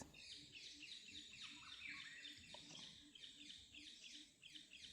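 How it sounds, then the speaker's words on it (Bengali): Many birds chirp and call in a steady overlapping chorus in a mangrove forest, quiet and somewhat distant, with repeated quick tweets throughout. "চারিদিকে শুধু পাখির ডাক"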